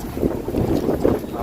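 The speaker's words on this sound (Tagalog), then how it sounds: "Kasi mahangin eh" Gusty wind buffets the microphone in uneven, rumbling bursts, loud and close, with no clear speech.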